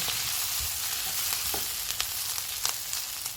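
Onions, garlic cloves and a piece of ginger sizzle in hot oil over medium-high heat as the base for mutton gravy, a steady fry with occasional sharp pops and crackles, close up and alone.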